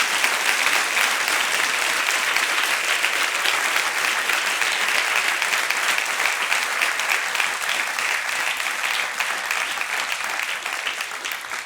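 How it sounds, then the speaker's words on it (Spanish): Sustained, loud applause from a church congregation at a Spanish-language worship service, dense clapping that stays even for over ten seconds before easing slightly at the end, with no talking. "Aplaude al Señor Rey de Gloria."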